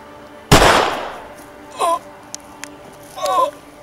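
A single sharp gunshot from a handgun in an outdoor short film scene, loud and close, followed by brief voices crying out.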